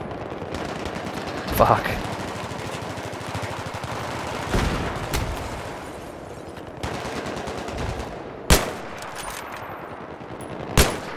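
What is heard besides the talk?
gunfire in a multiplayer shooter video game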